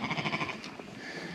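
Sheep held in yards before weaning give a wavering bleat up close, followed by fainter calls from the flock in the background.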